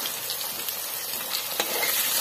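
Fish with bhindi curry ingredients frying in a pan with turmeric and salt, a close continuous sizzle with crackling bursts and occasional stirring scrapes, no voices.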